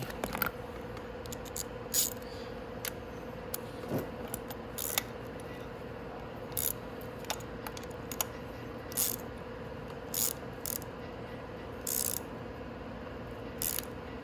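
A ratchet with a 12 mm socket tightens a bolt on the crank of a Venom X22GT 250cc automatic motorcycle, making short bursts of sharp pawl clicks repeated every second or two against a quiet background.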